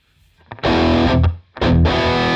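Distorted electric guitar through a TwoNotes CAB M with its Studio A reverb, two loud sustained strummed chords, each cut briefly before the next, with a roomy tail and no talking.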